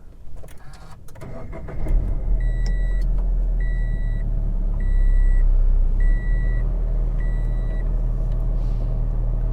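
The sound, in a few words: supercharged 2016 Subaru BRZ engine starting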